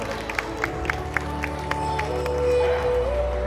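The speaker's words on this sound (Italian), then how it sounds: "Forza, un grosso applauso," Audience at an animal fair in Forlì claps in a quick scattered burst that swells into fuller, continuous applause and cheering, with music playing underneath.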